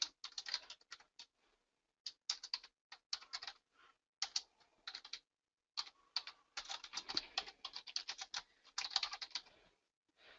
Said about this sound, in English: You will type in your note or describe your note.